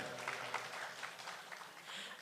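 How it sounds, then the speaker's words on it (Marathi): Audience applause at a live music show, a steady wash of many hands clapping that holds evenly through the whole stretch at moderate loudness, with no voices over it. "आपल्यासाठी एकदा जोरदार टाळ्या होऊन जाऊ देत."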